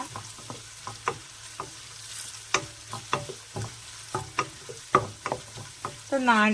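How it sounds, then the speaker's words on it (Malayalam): Mustard seeds hit hot oil in a pan and pop in a run of sharp, irregular crackles over a low sizzle, close by. A brief voice enters at the very end. "അതിലേക്ക് കടുകിടുന്നു"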